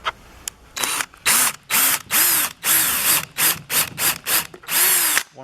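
A power drill countersinks and drives screws into wooden Adirondack chair parts in about a dozen loud, close bursts, the motor pitch rising and sagging as each bite loads up.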